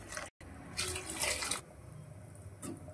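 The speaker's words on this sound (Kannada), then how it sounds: "ಎರಡು ಲೋಟ ನೀರನ್ನು ಸೇರಿಸ್ಕೊಳ್ತಿದ್ದೇನೆ." Two glasses of water are poured into a pot of rice for white vegetable pulao, a short splashing rush of liquid that cuts off after about a second, close and fairly loud, with a softer trickle following.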